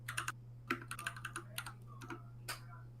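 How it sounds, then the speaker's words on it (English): Computer keyboard keys clack in quick, uneven taps during a live art stream, close and clear over a steady low hum. "Whose keyboard is that?"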